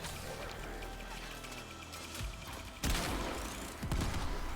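Grenade blast in the sci-fi shooter Warframe, a sharp close crash that cuts in suddenly over busy gunfire and combat noise, followed by another heavy impact a moment later.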